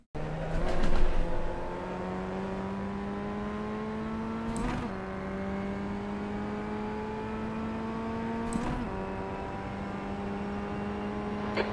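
Formula Ford FF1600 race car in iRacing at Zolder, its engine holding a steady high drone that climbs slowly through long pulls, broken by brief shift blips, continuous and close throughout with no talk.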